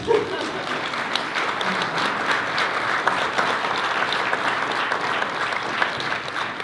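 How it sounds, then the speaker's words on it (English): Audience applause fills a school board meeting, a steady wash of many hands clapping at even loudness throughout with no talk over it. "Yep, applause, applause."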